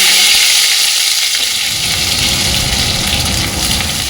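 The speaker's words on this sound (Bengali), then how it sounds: "কড়াইয়ের মধ্যে দিয়ে দেবো সর্ষের তেল কালো জিরে কালো জিরেটা ভাজা মতো হয়ে গেছে" Black cumin, ginger and green chili fry in mustard oil in a hot wok, a loud, steady close sizzle that holds throughout with no voices.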